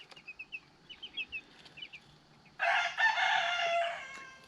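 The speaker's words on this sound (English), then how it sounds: "Let's check on the baby meat birds here." Baby broiler chicks in a brooder under a heat lamp give a run of soft, high peeping chirps, then a louder burst of dense chick cheeping and fluttering takes over and continues to the end, close by.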